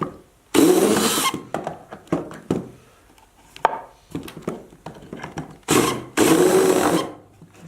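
A power drill drives screws into the wooden frame of a soap cutter. Two pairs of loud, close motor whirs rise and stop, separated by quieter clicks and handling knocks.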